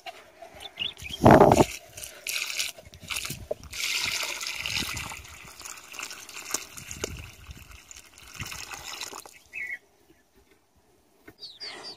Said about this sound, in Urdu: اب میں اس کو پانی بھی ڈالوں